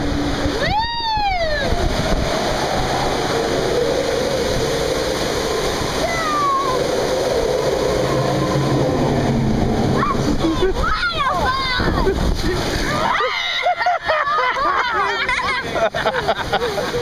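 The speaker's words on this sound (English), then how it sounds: "Look at the rapids" Rushing river rapids churn and splash steadily around a boat on the Grizzly Peak raft ride, a loud continuous wash of water with voices and excited shouts mixed in.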